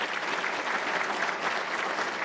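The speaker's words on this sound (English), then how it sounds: "And I want philanthropist Betsy Sherman, I want you all to give a round of applause for what they did" Audience applause at an awards ceremony, a dense, steady wash of many hands clapping at once, sustained and fairly loud with no voices.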